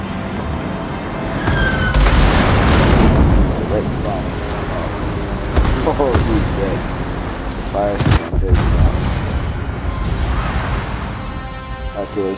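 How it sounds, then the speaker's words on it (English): Secondary guns firing HE shells in the naval video game World of Warships: repeated deep booms and rumbling blasts layered over ongoing game noise, with someone talking throughout. "The secondaries are firing HE shells."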